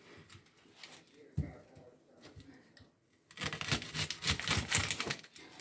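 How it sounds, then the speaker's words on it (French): Onions being cut with a knife for a beef and peas dish, a few sparse cuts at first, then a dense run of quick, close chopping knocks against the board. "Maintenant, nous allons découper nos oignons."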